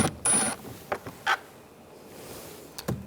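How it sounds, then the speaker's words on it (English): A Phillips screwdriver backs a screw out of a 2011-2018 Ram 1500 front door panel, making a few short, close mechanical clicks and ratchety scrapes separated by quiet gaps, with no talking. "Using a Phillips head screwdriver, take this screw out"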